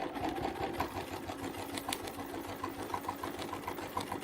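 A sewing machine stitching a quilt panel, running steadily and evenly with a rapid mechanical chatter throughout, moderately close and alone.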